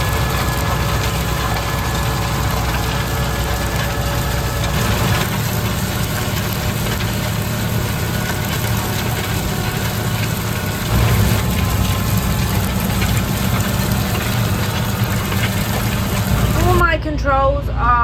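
A tractor engine runs steadily while pulling a new cultivator across a field on auto guidance, a constant mechanical drone with rattling and clanking heard from inside the cab, with someone talking over it throughout.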